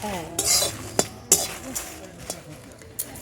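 Whole spices (bay leaves, dried red chillies, fennel, coriander and cumin seeds) are stirred in a dry pan for mango pickle. A spoon scrapes and clinks against the metal in scattered close strokes, with a voice speaking at the start.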